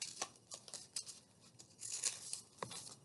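Close, light snips and papery rustling as scrap paper is trimmed from behind a paper fan on a 4th of July wreath, several short cuts spread unevenly across the moment.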